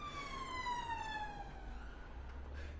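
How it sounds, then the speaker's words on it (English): An ambulance siren passes at a distance, its falling wail drifting downward in pitch as the vehicle moves away, faint under low background noise. "It's just an ambulance."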